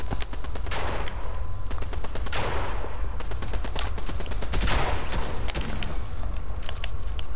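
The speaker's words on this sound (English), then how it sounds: "I hear someone spamming a shotgun" Shotgun blasts in a video game boom repeatedly in a fast, uneven series over a constant rumbling background, fairly close and loud, with no one speaking.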